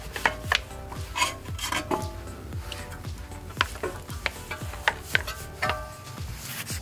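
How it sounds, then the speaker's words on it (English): A low profile brush scrubs the inside of a car wheel behind the brake disc, with quick rhythmic bristle strokes and rubbing scrapes repeating close up at a fairly even pace. "You can see this is a low profile brush, so you can actually get behind the disc as well, so you can clean the wheel on the inside."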